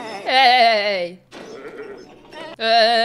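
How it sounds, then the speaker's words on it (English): Sheep or goats bleat in Kung Fu Panda 4, two loud, wavering calls close by, a long one at the start and another at the end, with quieter noise between them. "every time I hear any ba-ba-bas of sheeps or goats, I'm literally just gonna think that they're saying hey to each other"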